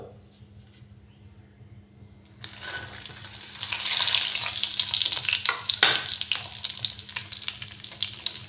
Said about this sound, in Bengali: ঘিটা গরম হয়ে গেছে আমি এবারে দিয়ে দিচ্ছি ড্রাই ফ্রুটগুলো